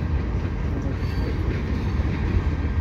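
A CN freight train with five engines rumbles past close by on the Lachine Canal Bridge, a steady heavy roar of wheels and cars with no let-up.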